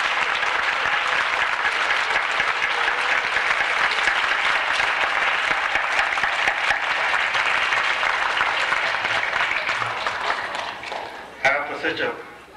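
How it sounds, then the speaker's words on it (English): Sustained audience applause fills a hall after a Kwanzaa celebration performance, loud and dense throughout before thinning near the end, where a voice briefly speaks. "Let's give everybody another round of applause."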